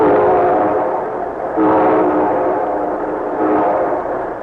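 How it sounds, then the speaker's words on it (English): A train rolls by with a steady rumble, its horn sounding in long tonal blasts that swell and fade, loud and close, with no voices. "here comes our star-studded show train"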